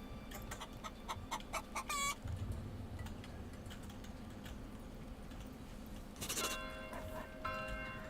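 Chickens clucking in a backyard in the video game Manor Lords, heard as short faint clucks and chirps amid quiet ambient game sounds and a bell-like chime.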